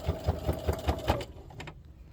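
Sewing machine stitching an apron seam, a quick, even run of about six mechanical thumps, then slowing and fading to quieter clicks, heard close with no talking.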